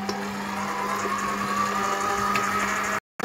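An electric mixer whirs steadily while egg is beaten into choux pastry dough, a continuous loud motor hum with a faint rattle, cut off abruptly near the end.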